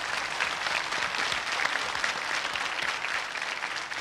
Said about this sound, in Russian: Аплодисменты Мише за его подарок.